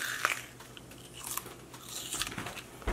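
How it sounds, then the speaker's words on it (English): Someone biting into a raw onion, close-up crisp crunches and wet chewing snaps scattered over a few seconds, moderately quiet, with no talking. "bite into a raw onion"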